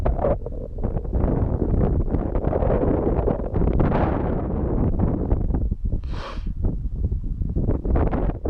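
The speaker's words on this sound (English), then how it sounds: "Just a little bit windy, guys." Strong wind buffets the microphone during a drone flight at 400 feet over the Cape, a continuous roaring rumble with gusty surges and brief rustling bursts, loud and unbroken throughout.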